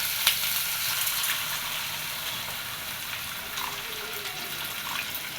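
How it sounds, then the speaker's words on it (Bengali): A steady, close wash of hiss with a watery, splashy character as water is poured into a hot pan for fish curry, with a few small clicks and bubbling bursts and no talking. "এবার আমি এর ভিতরে জল দিয়ে দিব।"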